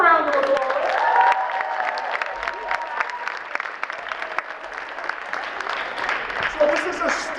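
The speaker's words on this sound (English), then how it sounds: "Give them a round of applause." Audience applause for students at a student-led Day of Expression and Allyship event, a steady wash of clapping with some cheering lasting several seconds, mixed with crowd voices and music-like tones.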